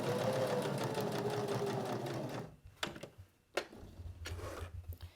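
A sewing machine runs in a steady close whir for about two and a half seconds while stitching a fabric business card holder, then stops, followed by a few short clicks and handling knocks.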